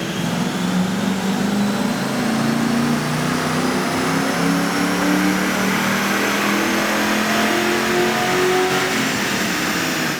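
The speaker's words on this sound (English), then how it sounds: "we got our 99 GT strapped down to the dyno" A 1999 Ford Mustang GT V8 strapped to a chassis dyno on 93 octane revs up in a loud, sustained pull, engine pitch climbing steadily through the gears for about ten seconds.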